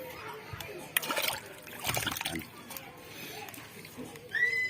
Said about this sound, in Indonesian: Saya siram cukup di pinggirnya aja kayak gini, pinggirnya aja.